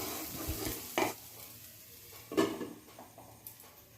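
Taro curry cooking in a pan, a quiet sizzle under a few brief scraping stirs and light utensil knocks, close and faint with no speech.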